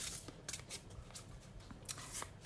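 Tarot cards being shuffled by hand, a soft papery riffling and sliding in several brief bursts, close and fairly quiet with no talking.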